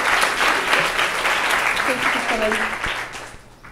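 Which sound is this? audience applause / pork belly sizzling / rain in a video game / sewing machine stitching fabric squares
audience applause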